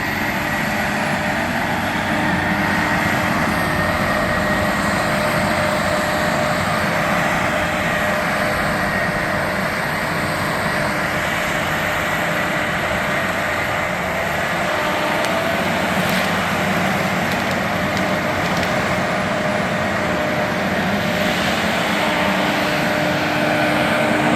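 A feller buncher cutting timber on a ridge produces a steady, distant machine drone with broadband engine and hydraulic noise, continuous and without any talking.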